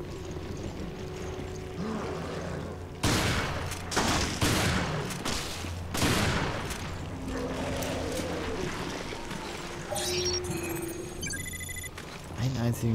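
Gunfire in the survival-horror game Resident Evil Revelations, a few sharp, loud shots in the middle of the stretch over a steady game soundscape with low hum and tones, with bright electronic sounds toward the end.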